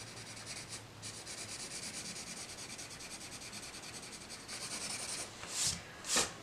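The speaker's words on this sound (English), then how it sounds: "you can use that colorless blender to get anything that you might want to" Steady soft rubbing of a colorless blender pencil on paper, a continuous close scratchy stroking that pauses briefly, ending with a couple of louder brushing strokes.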